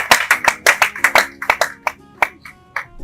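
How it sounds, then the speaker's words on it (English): Wedding guests clap for the bride in a burst of sharp, uneven handclaps from a small group nearby, tapering off to a few scattered claps. "A round of applause for the bride."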